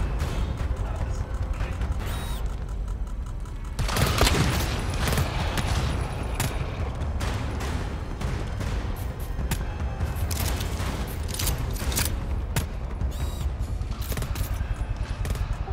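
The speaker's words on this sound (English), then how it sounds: "Oh, we're gonna get blasted by a turret." Turret gunfire in the co-op shooter game GTFO: dense, loud bursts of rapid shots and heavy booms hammer almost without pause, intensifying sharply after a brief lull early on and continuing with mechanical clatter throughout.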